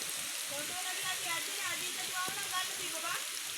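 Heavy rain pours down outdoors near a lagoon as a steady, even wash of hiss that fills the whole stretch, with faint voices talking underneath.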